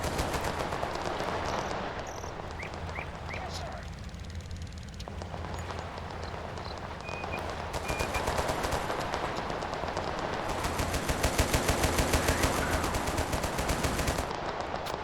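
Machine gun fire in the Total Conflict: Resistance war game, sustained rattling bursts layered over distant battle noise, growing louder and denser toward the end.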